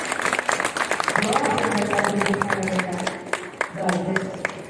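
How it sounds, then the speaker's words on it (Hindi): At a Hanuman Jayanti festival gathering at an ashram in Delhi, an audience claps enthusiastically. The clapping is loud and close, with a voice or music running beneath it. "खूब जोरदार तालियां बजा के सबका आप धन्यवाद करें।"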